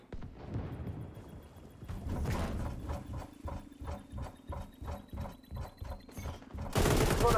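Rapid gunfire in the video game XDefiant, heard as repeated automatic bursts of evenly spaced shots in a fast rhythm, with a louder blast at the end.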